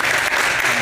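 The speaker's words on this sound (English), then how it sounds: "Big round of applause for this group." A brief burst of audience clapping at a tech summit, dense and fairly loud, welcoming a discussion panel to the stage.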